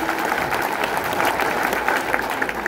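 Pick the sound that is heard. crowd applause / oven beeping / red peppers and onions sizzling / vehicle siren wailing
crowd applause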